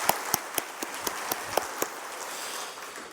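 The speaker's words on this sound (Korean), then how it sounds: "감사의 영광에 박수를 드립시다." Church congregation applauding with a soft, steady wash of clapping under a few louder, evenly spaced claps from one nearby person.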